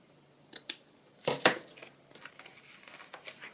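Scissors trim paper ephemera near a piece of lace: a few crisp, close snips spaced unevenly, then soft paper rustling and handling noises with no talking.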